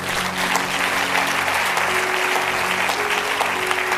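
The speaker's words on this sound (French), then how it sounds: "acclamons Jésus pour ce qu'il fait" A church congregation breaks into sustained applause during a sermon, a dense, steady wash of clapping that holds at an even level for the whole stretch, close and full with no pauses.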